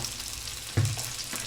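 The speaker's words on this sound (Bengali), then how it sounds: "দিয়ে আলতো করে ভেজে নেব আলুগুলো" Potatoes sizzle gently in a pan after salt and turmeric are added, for an egg curry. A constant hiss runs throughout, and a single dull stir or knock lands midway.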